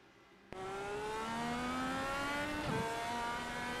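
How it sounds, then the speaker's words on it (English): A race car at Pocono is still running under power, its engine starting abruptly and droning loud and steady with rising and falling harmonic tones, without any talk. "It sounds like the car is still under power."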